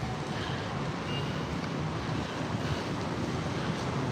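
Ocean surf on a beach across the street, a continuous loud wash of breaking waves mixed with heavy wind buffeting, steady throughout with no speech.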